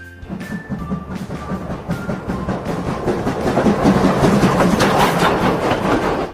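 A Thomas toy train plays its rolling clickety-clack rail sound with a faint tone at the start, building steadily louder and close by, with no talk over it.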